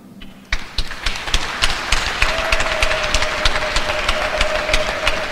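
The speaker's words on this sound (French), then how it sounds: "Et ça mérite des applaudissements." A church congregation breaks into applause during a memorial Mass homily for the Pope, starting with a few sharp claps and swelling into steady clapping under a faint sustained tone, moderately distant.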